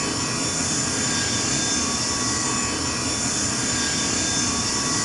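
Steady, loud roar of an aircraft engine in the SimpleRockets 2 game, flying the Vanguard Aerospace SR-901 during a max speed test, a constant broadband jet rush with a high whine running unbroken throughout.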